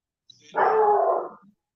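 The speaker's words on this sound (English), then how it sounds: "I got dogs barking." A dog barks outside, giving one drawn-out, howling bark after a brief faint yelp, fairly close and clear against silence, with no talking.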